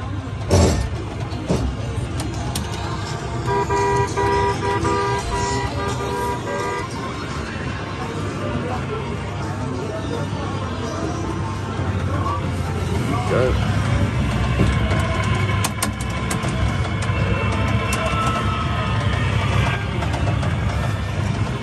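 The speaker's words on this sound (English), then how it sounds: "that was the Hank's Ice Cream Van Kid Ride by RG Mitchell" RG Mitchell Hank's Ice Cream Van kiddie ride running, its tooting chimes and steady motor hum going on continuously at close range for the whole stretch, with some background noise mixed in.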